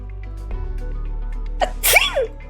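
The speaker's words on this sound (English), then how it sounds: "I sneezed like 5 times." A single sharp, loud human sneeze bursts out near the end after a quiet build-up, over a steady low background hum from a game stream setup.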